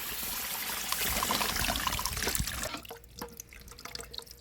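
Soaked tamarind water poured into a pot of Sankara fish curry, a steady splashing trickle for under three seconds that then thins to light drips and faint liquid sounds.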